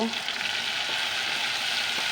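Spices and onion frying together in a pan, a dense, continuous close sizzle with soft scraping as they are stirred, loud and unbroken.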